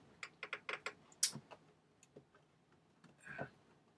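A few sharp mechanical clicks from pressing the physical button on an original PlayStation 3 console, a quick cluster of close, distinct taps followed by a couple of fainter clicks and a soft rustle.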